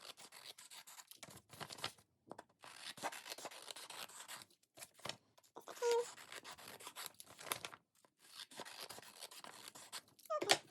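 Scissors trimming the white border off paper in a run of short, repeated cuts with brief pauses, close and fairly quiet.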